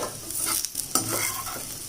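Ivy gourd being stir-fried in a pan for an Andhra-style poriyal, a steady close sizzle with scraping stirring strokes and a couple of sharper clatters, no voices.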